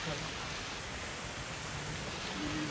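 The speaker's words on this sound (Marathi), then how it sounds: "पाऊस पडतोय याला लपवलं आम्ही" Rain falls in a park in Bangkok, heard as a steady, faint wash of dense drops with no distinct pauses, and a faint voice underneath.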